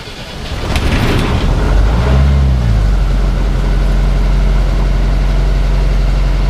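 A vintage boat's inboard engine cranks and catches with the throttle opened and the gearbox in neutral, settling into a steady, low, rumbling idle that carries on loud and close.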